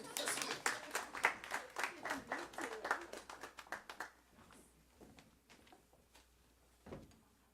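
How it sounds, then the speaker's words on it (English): A small audience claps for a few seconds, scattered and fairly close, then the clapping thins out into a few isolated taps. "a round of applause, please"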